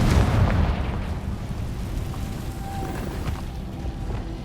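Confringo fire spell explosion in the video game Hogwarts Legacy, a deep rumbling blast at the onset that decays into a long low roar with faint crackles.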